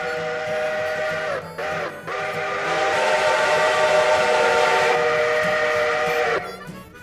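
In the Railroader video game a train rolls past, its whistle blowing long sustained blasts with short breaks, loud and near over a rumbling running noise.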